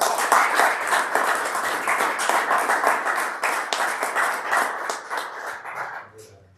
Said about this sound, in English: If you could give them a round of applause, please.